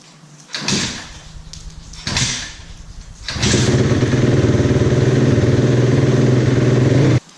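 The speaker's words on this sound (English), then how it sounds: "I'm going to try to start the bike up today, see if it works" A Yamaha YZ250F dirt bike with a freshly changed spark plug is kicked over twice without catching, then starts on the third try and settles into a loud, steady, close idle until it cuts off abruptly.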